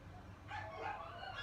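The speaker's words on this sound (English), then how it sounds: "That's why the dogs are crying." Several dogs whining and yipping at home, a high, wavering crying that swells and fades across the stretch over a low steady background hum.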